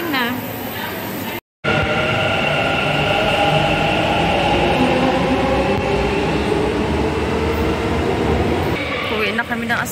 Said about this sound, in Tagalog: Nag-aantay kami dito ng metro train.